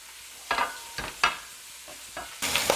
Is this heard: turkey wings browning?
yes